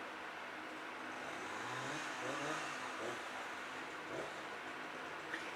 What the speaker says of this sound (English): Let's pull out the chainsaw while I'm recording.